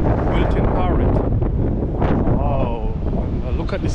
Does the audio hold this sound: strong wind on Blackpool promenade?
yes